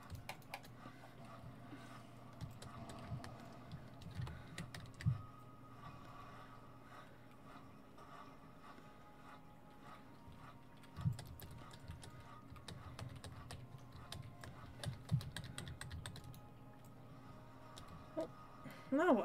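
Scattered keystrokes on a computer keyboard during a game of World Zero: sparse, light clicks set against a low background hum.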